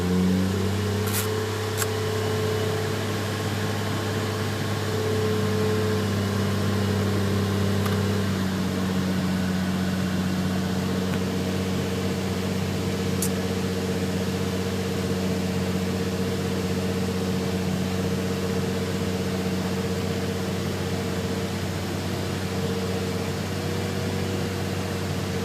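A Lexus IS300 turbo car engine idling steadily while warming up, a constant low drone with a steady hum and a slight drop in pitch after about eight seconds, no talk.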